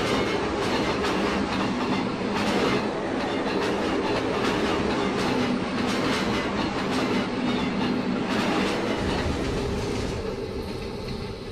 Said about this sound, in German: da fährt der Regio Shuttle noch